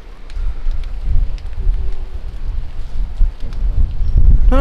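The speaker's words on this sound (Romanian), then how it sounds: "bate vântul foarte tare" Strong wind buffets a beach in Crete, a steady low roar with gusting surges that grows louder toward the end.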